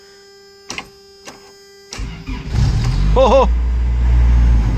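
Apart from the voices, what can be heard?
1994 Toyota pickup engine starting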